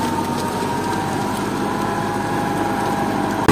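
A tractor engine runs steadily in a muddy, rain-softened field with a Sesbania green-manure crop, giving a continuous mid-pitched drone with faint knocking throughout.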